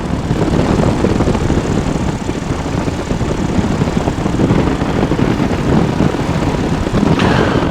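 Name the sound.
PeaBee ultralight aircraft engine in flight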